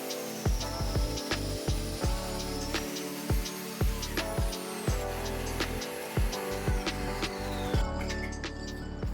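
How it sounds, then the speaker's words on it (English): A biscuit jointer cuts slots in pieces of reclaimed wood flooring in a workshop, with repeated short whirring plunges and woody knocks in an uneven rhythm over a steady motor hum. "And to put them together, I used my biscuit jointer."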